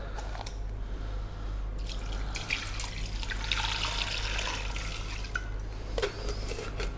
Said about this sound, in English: We're going to add water.